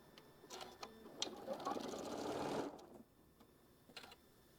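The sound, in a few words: sewing machine stitching fabric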